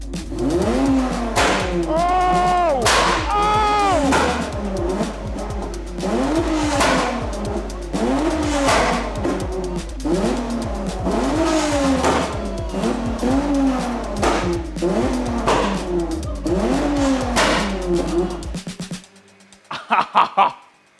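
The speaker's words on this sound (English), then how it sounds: "now the flame kit works" A car engine revving hard with repeated exhaust pops and bangs from a flame kit, loud and close, sustained over many seconds before cutting off.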